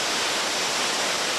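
River rapids roar over a steep second drop of the Lost Paddle rapid, a dense, constant broadband rush of whitewater, loud and close with no break or voices.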